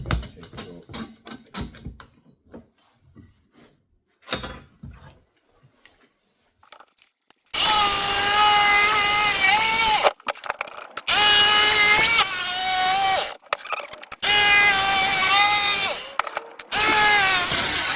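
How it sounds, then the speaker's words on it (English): Jigsaw cutting out a golf club replacement seat pad for upholstery, starting after quiet handling knocks, then three sustained loud buzzing cuts separated by brief pauses, close by. "And we can start cut this out with the jigsaw."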